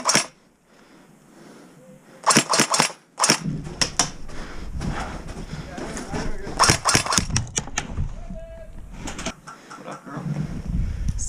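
Airsoft guns firing during close-quarters indoor combat: sharp clustered bursts of snapping shots in several volleys, with people talking and shouting between them.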